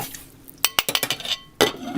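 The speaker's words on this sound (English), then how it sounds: "We're gonna cover it now." Metal lid set onto a pot of cooking brown rice on a stovetop, giving a few sharp clinks and rattles in quick succession, then a second clattering settle, close and fairly loud with no talking.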